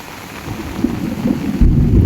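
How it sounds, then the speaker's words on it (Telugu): A thunderstorm rumbles near a swelling river and waterfalls at Penchalakona, deep thunder building under steady loud rainfall, growing stronger toward the end with no talk. "ఉరుములు మెరుపులు"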